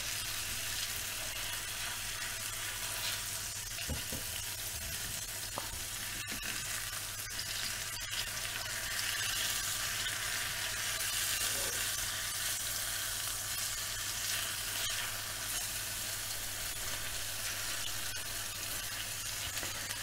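Boneless, skinless Portuguese-style chicken thighs and breasts fry in a pan that is not fully non-stick, giving a constant, even hiss of sizzling fat throughout with a low steady hum beneath and no talking.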